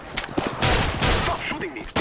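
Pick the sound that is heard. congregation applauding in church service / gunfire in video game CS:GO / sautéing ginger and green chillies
gunfire in video game CS:GO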